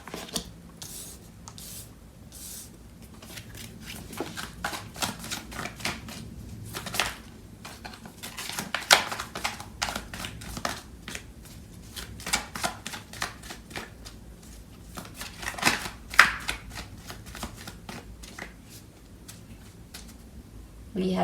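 Tarot cards are shuffled close by in repeated soft riffles and slides, with papery rustling bursts and brief pauses between them.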